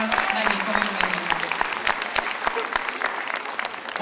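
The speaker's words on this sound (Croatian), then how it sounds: "Pozdravimo ih jednim velikim pljeskom." Audience at a singing competition evening in Duvno gives the jury a big round of applause, dense and sustained throughout, with voices audible in the crowd beneath the clapping.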